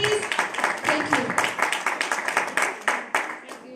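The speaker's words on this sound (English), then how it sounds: "Give a round of applause to Hagi, please." A room full of people gives a dense round of applause for someone being welcomed to introduce a minister, with loud, close, overlapping clapping and a brief voice near the start.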